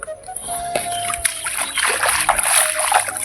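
Close, loud splashing and sloshing of water as someone wades or moves through a flooded village field, continuous churning with brief bursts, no talk.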